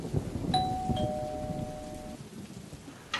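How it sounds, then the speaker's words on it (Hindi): A doorbell chimes once with a sustained, clear ringing tone while heavy rain patters steadily in the background indoors. "बेल बजी है, लगता है आ गया।"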